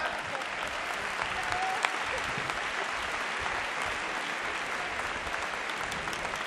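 Steady, full audience applause at a design conference talk, a dense continuous wash of claps from a large crowd with a faint voice briefly underneath.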